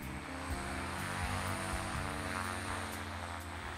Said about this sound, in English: The aeroplane has skis, so it can land on the snow.